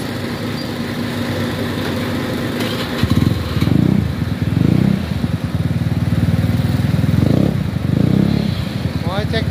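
A Honda BeAt scooter with a carbureted engine and a bored-out cylinder idles and revs, with a deep, steady low rumble broken by several louder throttle blips, close and continuous.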